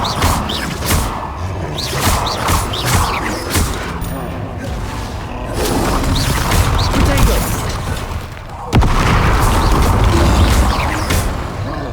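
Bombarda spell blasts in Hogwarts Legacy: repeated booms, whooshes and crashes in hectic spell combat, loud and dense, with a sharp heavy hit late on.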